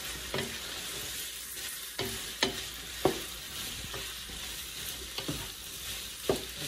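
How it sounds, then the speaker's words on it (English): Mushrooms and veal frying in a pan while being stirred, a soft steady sizzle broken by repeated scraping strokes of the spoon roughly every second, close and fairly quiet with no voices. "I'm gonna get that stirred around."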